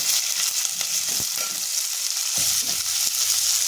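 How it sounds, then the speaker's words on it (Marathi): Sliced onions and finely chopped garlic sautéing in hot oil, a loud continuous sizzle broken by a few scraping stirs of a spatula, close up with no talking. "आता ह्याच्यामध्ये बारीक चिरलेला लसूण आणि 3 मोठे कांदे मी उभे चिरून घेतलेले, हे आपल्याला ह्याच्यामध्ये परतून घ्यायचे"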